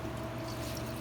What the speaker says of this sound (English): I got a really good stream of water coming through there